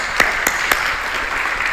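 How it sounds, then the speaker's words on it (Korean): Church congregation applauding during a Korean worship sermon, a sustained wash of mid-volume clapping with a few sharper claps standing out, no voices. "우리 영광의 박수 드리겠습니다"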